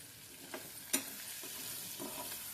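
A vegetable dish made with drumsticks is stirred with salt in a pan, giving a quiet sizzle, a few soft scraping strokes and one sharper clink of the utensil, with no voices.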